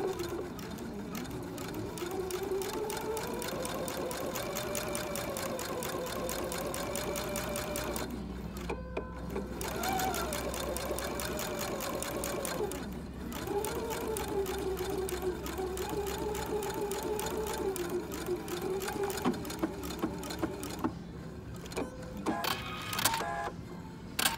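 An Epic 2 sewing machine stitches half square triangles with a steady, continuous mechanical whir, running loud and unbroken with brief pauses and a few clicks near the end.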